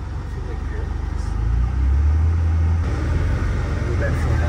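A Nissan Skyline R34 GTR engine runs with a steady low rumble from inside the moving car, swelling slightly midway, while people talk over it.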